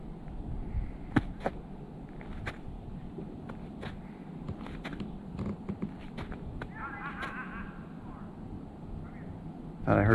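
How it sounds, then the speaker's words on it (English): Distant geese honk in scattered calls over a noisy outdoor background on a late-winter hike at the Sensiba Unit, faint and irregular, with a short burst of louder honking near the end. "Thought I heard geese there."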